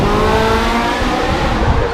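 Lamborghini Huracan Spider, its V10 engine roaring loudly at the Goodwood Festival of Speed start line, a dense, sustained engine note lasting two seconds with no voices.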